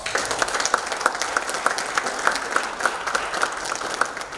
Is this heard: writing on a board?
no